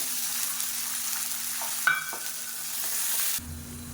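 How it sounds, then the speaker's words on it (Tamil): Garlic sautéing and being stirred in a pan while cooking a thovayal side dish, a steady soft sizzle with a brief clink of a utensil midway, close and moderately quiet, with no talking. "பூண்டு நல்லா வதங்கிட்டு இருக்கு"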